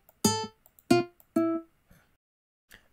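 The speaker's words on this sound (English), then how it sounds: "Pick yourself an acoustic guitar to make the main melody with." An acoustic guitar instrument in FL Studio plays three bright plucked notes in quick succession, each decaying fast, followed by faint softer echoes and near silence.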